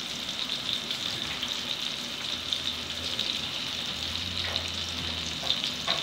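Lemon wheels fry in hot oil in a pan as salmon cooks, a steady close sizzle and spitting crackle running evenly throughout with no voices.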